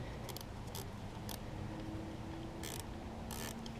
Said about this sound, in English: Now there's a wrench that I like to use on these because it fits perfect and I love it.